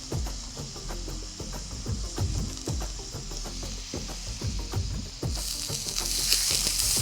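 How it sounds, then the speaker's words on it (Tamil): Raw rice sizzles steadily in hot ghee in a pan while a spoon stirs it in regular scraping strokes, a brighter hiss swelling near the end, with no talking. "இதையும் நெய்யில் ஒரு பெரட்டிக்கோங்க."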